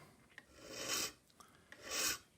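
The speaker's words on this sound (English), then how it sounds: "now 45-degree bevel in the end of the pin" Two rasping file strokes shaping a 45-degree bevel on the end of a small pin for a vintage English Enfield mantle clock, close and clear, separated by brief light taps.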